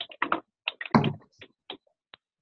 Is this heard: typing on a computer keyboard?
yes